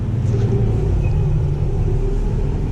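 A Massey Ferguson 8730 tractor engine runs at about 1000 rpm, a loud, steady, close low rumble that holds evenly throughout, with no talk.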